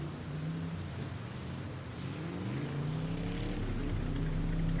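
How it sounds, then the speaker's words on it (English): Engines revving in a sci-fi tabletop roleplaying scene, a steady loud mechanical drone with rising and falling tonal lines that swells louder toward the end, without any talk. "the sound of engines revving."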